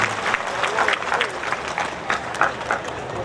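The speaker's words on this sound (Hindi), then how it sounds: "एक बार जोरदार तालियों के साथ में" Audience applause at a satsang in Ellenabad welcoming a visiting saint, a steady moderate clapping from a gathered crowd that holds through the short stretch with a voice faintly above it.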